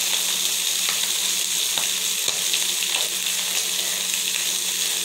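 Mackerel pieces frying in a pan, an even, dense sizzle and crackle that holds steady throughout, close and fairly loud with no talking.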